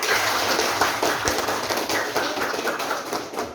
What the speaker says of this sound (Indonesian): Tepuk tangan buat Zahra.